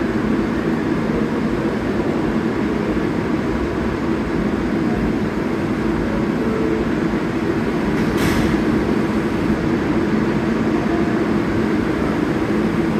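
Subway trains running close together under CBTC signalling, a loud continuous rumble of wheels and cars passing near for the whole stretch, with a brief high screech partway through.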